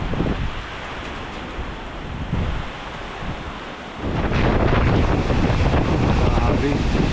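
Strong typhoon wind roaring against the microphone during a storm in Daet, a loud, turbulent rush that swells sharply partway through and stays heavy to the end.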